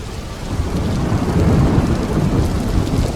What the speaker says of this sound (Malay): tiba-tiba je hujan lebat